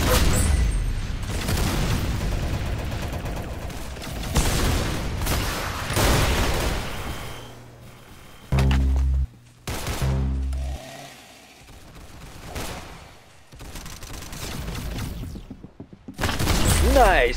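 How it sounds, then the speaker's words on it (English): Gunfire bursts from the video game Arsenal, with loud repeated shots and booming blasts coming in clusters through the whole stretch, while a voice talks over the action. "Good shot! You got his head!"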